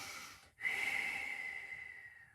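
A single long, close inhale during a Pilates exercise follows a brief pause and stands alone, steady and quiet.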